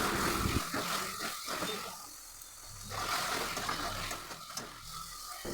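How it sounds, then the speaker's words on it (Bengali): Ground turmeric, red chilli, coriander and cumin stirred into hot mustard oil in a wok, a steady close sizzle with scraping strokes of a spoon, louder at the start and easing midway. "কড়াইতে আবার সর্ষের তেল দিয়ে মশলা দিয়ে একটু হলুদ গুঁড়ো, রেড চিলি, লঙ্কা গুঁড়ো, ধনে গুঁড়ো, জিরে গুঁড়ো দিয়ে নাড়াচাড়া করে নিলাম।"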